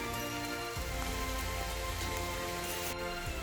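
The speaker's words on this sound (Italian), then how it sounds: "mentre davanti a noi la pioggia battente sta continuando" Heavy rain pours steadily near an abandoned mountain hut on a trail above Giazza, a dense, continuous hiss of drops drumming on surfaces with no pause.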